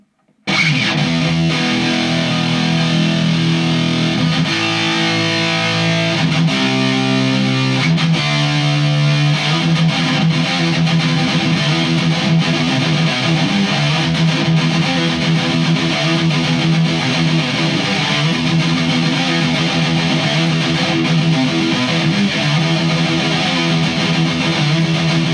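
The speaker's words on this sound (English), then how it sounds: "I might just knock out a few notes on the distortion, and have a little doodle" A 1992–93 Dean USA Custom Shop ML electric guitar plays through distortion on the bridge pickup in a recording studio, loose doodled notes and sustained chords ringing loudly and alone.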